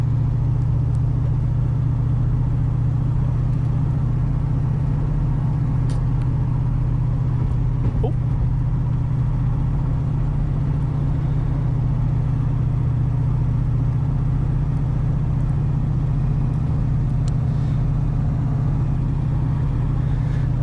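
Manual V8 Holden VN on the move, a steady deep engine drone with a strong low hum and road noise holding level throughout, heard from inside the car.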